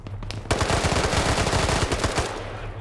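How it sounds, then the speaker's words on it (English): Rapid automatic fire from an MP7 submachine gun in a close-quarters combat shooter game, a dense burst of sharp shots running for about two seconds after a brief quiet start, loud and close, with no talk. "Fred's got an MP7 though. Oh, but he misses every shot."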